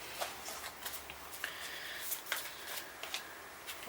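Tarot cards shuffled by hand during a pick-a-card reading, giving soft repeated riffling and flicking bursts at a steady close rhythm with no voice over them.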